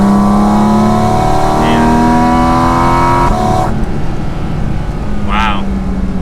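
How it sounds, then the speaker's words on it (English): Porsche 718 Cayman GT4 RS Weissach engine revving under part throttle, a loud sustained rising engine note heard from inside the car, with a brief voice heard. "When you get a little harder on the throttle, it opens up, and that's still like half throttling it"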